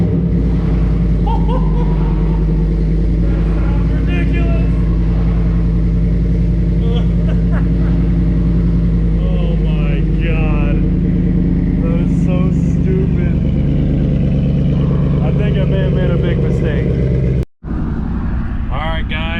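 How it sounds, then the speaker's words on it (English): A Ford F150 with a 5.0 engine and an MBRP exhaust idles and runs with a steady, deep rumble. The sound is continuous and fairly loud. A brief dropout comes near the end. "this exhaust actually don't sound too bad, and it's not ridiculously loud"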